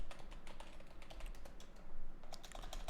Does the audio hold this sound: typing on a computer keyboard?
yes